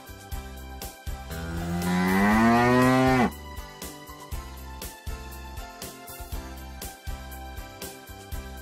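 A cow gives a single long, loud moo with a rising then falling tone, followed by a steady rhythmic backing of music with regular beats.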